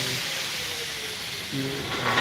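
A steady, loud hiss of an air compressor running throughout at a small metal workshop with welding gear, with a slight rise in noise toward the end.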